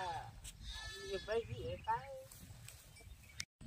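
Sheep bleat a few times nearby, wavering cries mixed with a person talking and some rustling in the background.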